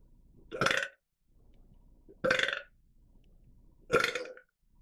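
Three loud, drawn-out burps, evenly spaced about every one and a half seconds, close to the listener, with quiet gaps between.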